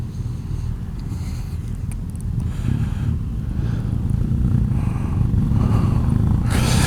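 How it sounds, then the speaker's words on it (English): A BMW F800 GS Trophy motorcycle being ridden, its engine making a continuous low throb close by, with wind noise and road rumble that build slightly toward the end. "Once again, this is the F800 GS Trophy."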